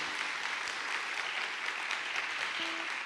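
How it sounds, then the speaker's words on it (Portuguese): Audience applause at a church program, a dense, even patter of many hands clapping that fills the whole moment at steady loudness without pause. "Uma salva de palmas para vocês."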